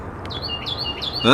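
A small bird chirps three quick, high tweets close by, followed by a brief voice at the end.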